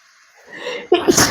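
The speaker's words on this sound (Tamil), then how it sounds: "இதாகும் தும்மல் வந்துருச்சுங்க" A single loud sneeze right up close, preceded by a rising breathy inhale.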